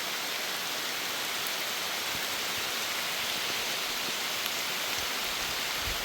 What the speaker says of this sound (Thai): ตกตลอดฝนกันเลย